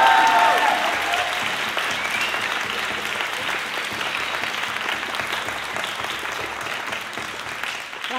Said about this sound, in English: Let's give a big round of applause to these award winners.